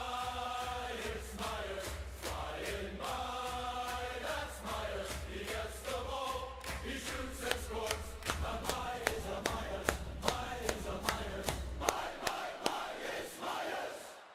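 Football video game crowd chants in unison, then breaks into a long run of rhythmic synchronized claps, steady and moderately loud, with the chant fading out near the end.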